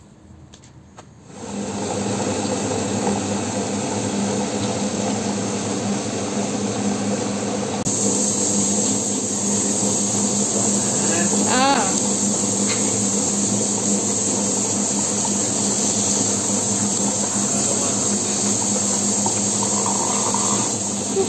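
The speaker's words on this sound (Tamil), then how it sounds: "இப்போ நம்ம கிரைண்டரில் வந்து எல்லாத்தையும் சேர்த்து நல்லா அரைக்க போகிறோம்" A wet grinder churns soaked rice and urad dal into dosa batter, giving a steady, close mechanical whir with a constant hum and hiss that runs unbroken from start to finish, with no talking over it.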